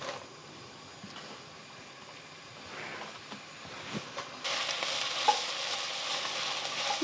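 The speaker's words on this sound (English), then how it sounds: "I'm going to cook this for about 2 to 3 minutes, just until the onions are softened" Onions and ginger sizzle in a pan, starting as a faint low fry with occasional stirring clinks, then rising to a brighter, louder steady sizzle partway through, with no talking.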